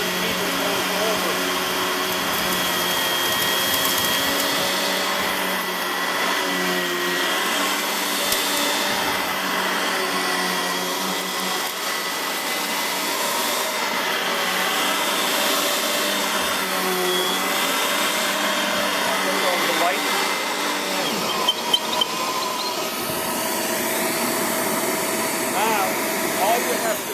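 A Riccar Brilliance upright vacuum cleaner runs steadily on dirt with its agitator going, a loud continuous motor roar and airy whine that holds for the whole stretch, with a few brief knocks near the end.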